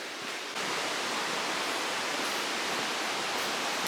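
A mountain creek on a Great Smoky Mountains trail rushes steadily in a dense, even wash of water noise, loud and close, with no voices.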